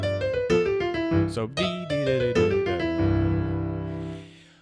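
Jazz piano passage with rich chords and a quick one-note slide leading into a target note, ending on a sustained chord that rings out and fades, played loud and close with a brief spoken word at the start.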